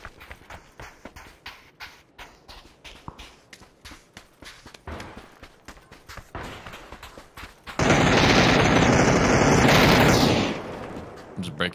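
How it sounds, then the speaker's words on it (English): Rapid bursts of PUBG gunfire crack out in quick repeated volleys for several seconds, then give way to a loud sustained roar near the end. "My gun goes pew pew."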